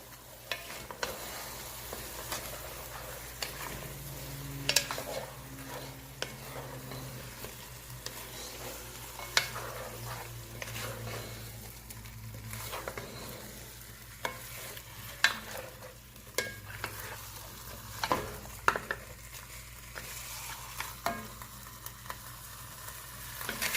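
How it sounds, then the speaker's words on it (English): Lamb stew being stirred in a pot, with a spoon scraping and clacking against the pot in scattered knocks over a steady low simmering sizzle, close and moderately quiet. "let's go ahead and give it a stir."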